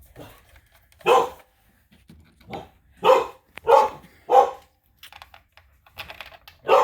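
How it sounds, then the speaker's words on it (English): A dog barks several times in separate loud bursts, some close together, with quiet gaps and faint clicking between barks. "my dog's barking"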